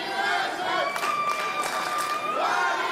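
A lively crowd at a wrestling show cheers and roars in a sustained wash of noise, with some whistles cutting through and commentators talking over it.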